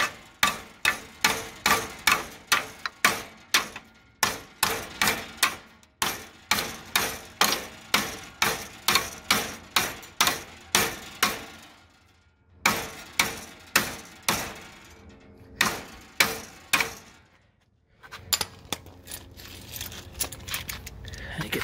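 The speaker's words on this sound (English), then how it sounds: "Just gotta hammer this back straight now." Rapid, loud metal-on-metal hammer strikes straightening the bent front unibody sheet metal of a wrecked Jeep XJ Cherokee, in fast rhythmic runs with brief pauses between sets.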